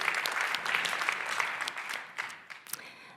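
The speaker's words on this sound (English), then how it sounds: "Is this not a moment for applause to Luomo?" Applause from an audience at a circular design training programme's closing event, a dense wash of many hands clapping that rises and then thins out over a few seconds.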